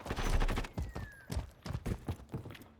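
Pistol shots ring out in Call of Duty Modern Warfare 3, a series of sharp, separate bangs in an uneven rhythm, fairly close and punchy.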